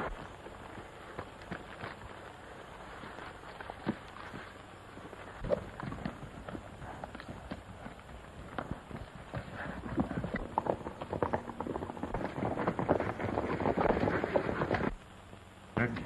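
Hooves clip-clop in a steady trotting rhythm over a continuous outdoor rumble, growing a bit louder and busier toward the end.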